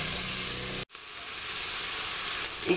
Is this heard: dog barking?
no